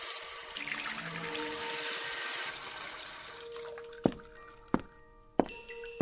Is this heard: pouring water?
yes